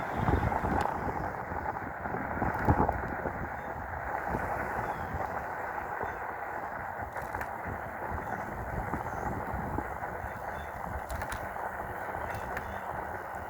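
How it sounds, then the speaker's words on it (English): Steady wind rushing and buffeting against the microphone while bike riding, a continuous low roar with no pauses. "It is windy today."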